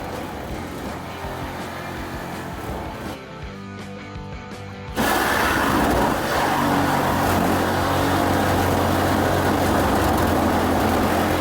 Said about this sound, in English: Let the saw pull itself. Don't push the saw, don't be aggressive.